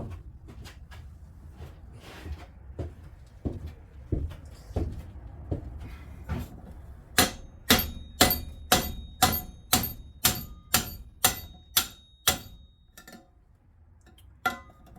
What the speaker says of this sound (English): Got a big hammer.